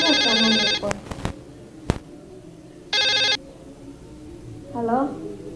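A telephone ringtone rings loudly in two bursts, separated by sharp knocks and a pause, with a short voice heard near the end.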